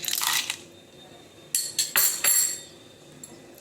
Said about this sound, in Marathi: आणि हे बर्फाचे काही तुकडे आहेत, हेही आपण याच्यातच घालूया